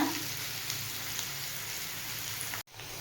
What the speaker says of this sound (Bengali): পেস্ট বানিয়ে নিয়েও চলে এসেছি, এটাতে ঢেলে নিয়েছি পেস্টটা।